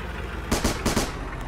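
Machine gun fire in a helicopter combat game, a short burst of rapid loud shots over a steady engine roar, with no talking.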